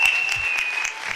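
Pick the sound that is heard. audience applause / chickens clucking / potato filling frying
audience applause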